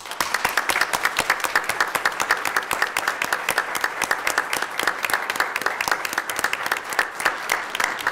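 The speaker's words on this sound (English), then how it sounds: "Let's give our students another round of applause." A crowd at a board of directors meeting applauds students in a sustained, dense round of clapping that keeps an even level throughout, close and full, with no speech on top.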